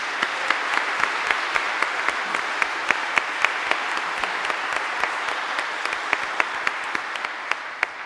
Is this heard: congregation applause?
yes